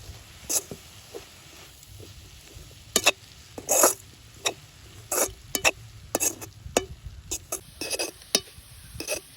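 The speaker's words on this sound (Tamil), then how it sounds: "தேங்காய் பூ பச்சை இது பூ மட்டும் வறுக்க வேணும்" Grated coconut dry-roasting in a pan, scattered close scraping stir strokes and light irregular rustles over a quiet background, with no oil sizzle.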